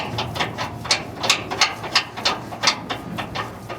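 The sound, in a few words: wrench tightening bolts on pump studs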